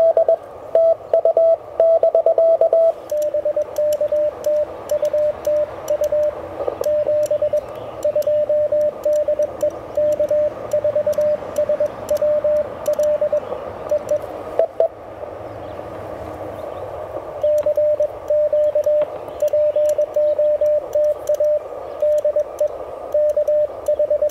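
A Mission RGO One radio receiver plays in the field during a park activation, a steady tone with faint static and keyed on-off bursts running continuously and closely with no talk over it.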